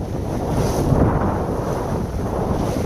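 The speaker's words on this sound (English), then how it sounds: "It's pretty windy out here today." Strong wind roars steadily on a sailboat out on the Pacific Ocean near the Channel Islands, blended with the wash of the sea and buffeting the microphone, loud and continuous with no voices.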